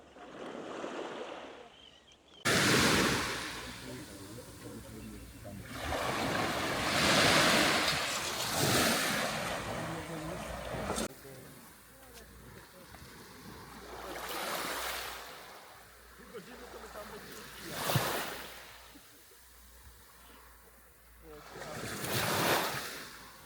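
Sea waves wash onto a fine-sand beach on the Norwegian Sea, with broad, rolling surges breaking in slow succession and wind buffeting the microphone between swells.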